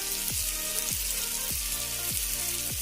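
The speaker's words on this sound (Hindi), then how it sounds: "तो जो पनीर अच्छे से फ्राई हो जाए उसको पलट दें, पलट कर दूसरी तरफ भी पका लें" Paneer cubes sizzle steadily in a hot pan during cooking for paneer tikka masala curry, a continuous close frying hiss with no voices.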